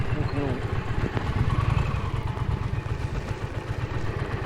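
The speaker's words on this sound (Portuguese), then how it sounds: "Vou estacionar aqui o motociclo." A motorcycle is parked beside a chapel near a nature observatory, its engine running steadily and close, a continuous low rumble with faint clatter and no clear change in pitch.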